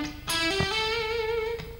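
An electric guitar plays a rising three-note-per-string pentatonic run starting on E, the notes stepping steadily upward one at a time with clear sustained tones, played alone.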